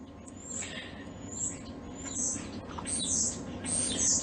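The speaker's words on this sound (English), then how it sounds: "And we have birds, I don't know if you can hear, that like crawl through our pipes" Birds chirp and scratch about inside household pipes, giving faint, muffled high chirps in short repeated bursts over a low background rumble.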